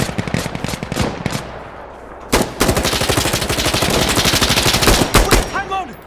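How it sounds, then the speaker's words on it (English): Insurgency Sandstorm firefight with close, loud automatic rifle bursts in long rapid strings, preceded by a few scattered shots, with spent casings tinkling near the end and a voice briefly heard. "What are you shooting at?"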